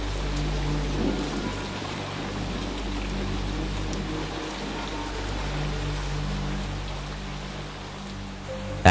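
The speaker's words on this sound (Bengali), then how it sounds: "প্রতিদিনের মতো আজও ঝিরঝির করে বৃষ্টি পড়া শুরু হয়েছে।" Light, steady rain falls at dusk beside a marsh in an animated ghost story, a soft continuous hiss over a low, even hum with no voices.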